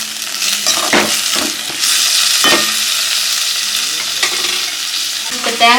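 Ingredients for a mutton pepper fry sizzle loudly in a pan, steady broadband frying with repeated scraping strokes of stirring, close and continuous with no talking.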